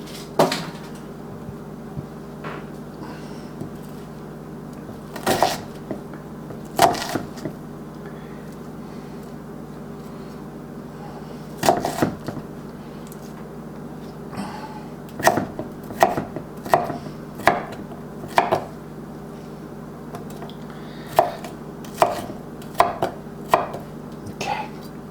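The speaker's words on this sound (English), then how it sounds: "So I want to try dicing this up so I don't cry." An onion being diced with a knife on a cutting board, bursts of quick sharp chops separated by pauses, close and crisp over a quiet room.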